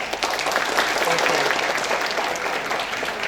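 A conference audience at a DevFest keynote applauds, dense steady clapping from a crowd throughout, loud and close, with no voices on top.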